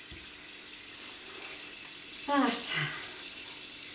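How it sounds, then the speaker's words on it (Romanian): Tap water runs onto fatty smoked meat to rinse off the smoke while making borscht, a soft steady stream with a short splashing surge midway as a nearby voice speaks briefly. "Și dăm drumul leacă de apă așa, peste ea aici."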